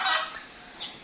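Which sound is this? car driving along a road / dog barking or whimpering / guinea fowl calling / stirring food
guinea fowl calling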